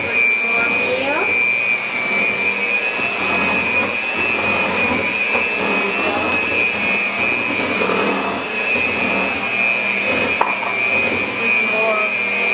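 An electric mixer whirs steadily through tres leches cake batter as milk is added, a constant loud motor whine with a high pitched tone throughout, while faint voices talk underneath.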